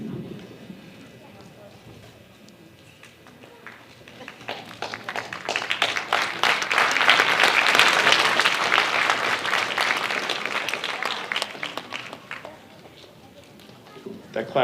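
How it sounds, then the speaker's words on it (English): Audience applause at a high school band's winter concert, scattered claps that swell into a full round of clapping and then fade, with talking underneath at the start and end. "That clap was just for me putting the microphone down, right?"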